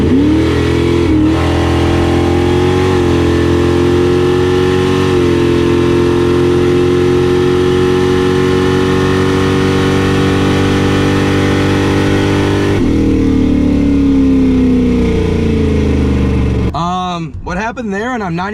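A 1987 Chrysler Conquest and a Mustang launch off a drag strip starting line, a loud sustained engine roar that climbs steadily in pitch, shifts once, then cuts off abruptly as the hatch pops open.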